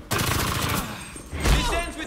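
Gunfire erupts in the Gotham Knights video game, a dense burst of rapid shots near and loud, pausing briefly before a heavier blast, with voices shouting over the fighting.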